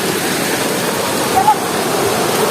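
A village stream, swollen and flooding after continuous rain, rushes past close by in a loud, unbroken roar of water.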